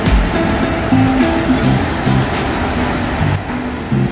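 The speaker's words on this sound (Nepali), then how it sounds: "यहाँनिर यत्रो पानी आइरहेको छ एकदम" Water rushes loudly and constantly along the Sundarijal stream in Shivapuri Nagarjun National Park, a broad steady roar close by with a low hum underneath.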